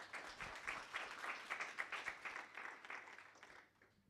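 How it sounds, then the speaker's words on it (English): Audience applause at a Global Digital Compact conference in Nairobi, Kenya: a room of steady, moderate clapping that swells briefly and begins to fade after about four seconds. "A round of applause for her."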